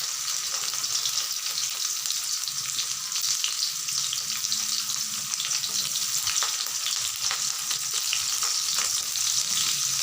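Garlic and green chillies fry in a pan with a continuous, fairly loud hissing sizzle and a faint scattered crackle running under it, steady from start to end with no talking.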